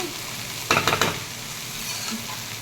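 Tarka dal is fried with fat in a pan, giving a soft steady sizzle broken by a quick burst of several spoon scrapes and clatters near the start, close by and without talk.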